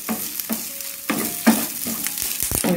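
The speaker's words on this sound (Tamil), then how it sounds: "ஆட் பண்ணிவிட்டு லைட்டாக ஃப்ரை பண்ணுவோம்." Shredded chicken frying with onions in a pan sizzles steadily while a spoon stirs and scrapes in several distinct strokes, close and fairly loud with no talking.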